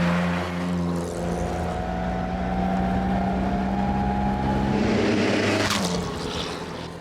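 A 1927 4.5 litre Bentley engine drones steadily at close range, a deep even hum with a slight rise in pitch, holding loud throughout before easing off toward the end.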